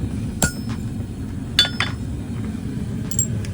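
Sharp metallic strikes of a hammer on a center punch, marking steel for drilling while forging a basic hook: a few separate clinking hits at irregular intervals over a steady low background rumble.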